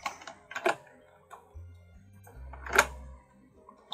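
Light keystrokes on a computer keyboard tap in short uneven bursts, quiet and close, mixed with faint low humming tones from the machine.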